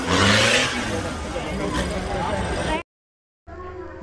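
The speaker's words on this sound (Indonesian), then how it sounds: "Wow, mobil Jeep." Off-road Jeep engine revving loudly up close with broad roaring noise, cutting out abruptly and then returning more faintly after a brief silence, with a voice mixed into the roar.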